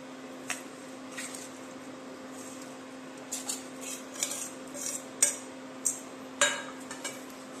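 Spoon stirring jaggery in a pot to dissolve it, with scattered faint metallic clinks and scrapes that turn more frequent toward the end, over a steady low hum.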